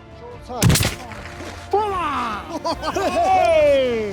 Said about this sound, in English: A second shot followed shortly and put an end to the Argali's agony.